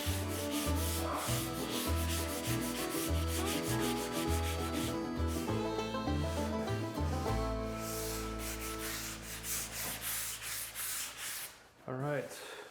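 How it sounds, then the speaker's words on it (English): Steady back-and-forth strokes of light hand sanding on primer repeat rhythmically over background music, fading toward the end. "Just a real light sanding."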